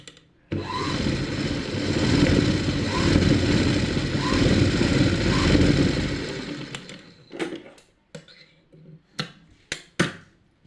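A sewing machine stitching blouse parts together, one continuous whirring run lasting about six seconds, close and steady, followed by several short sharp clicks and taps of handling, with no talk.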